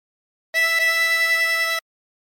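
Two quick blown notes on hole 13 of a 16-hole tremolo harmonica, the first short and the second held longer, with a shimmering, buzzy reed tone heard close and alone.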